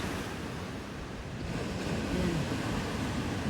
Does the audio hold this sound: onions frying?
no